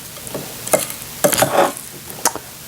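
Potato pieces are stirred around in a marinade in a bowl, a few soft wet slaps and scrapes in short bursts with quiet gaps between.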